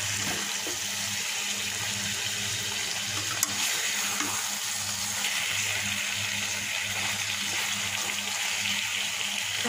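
Rohu fish cooked with tomato into a thick, dry bhuna, sizzling steadily in a pan, a continuous broad hiss with a low hum beneath, no talking.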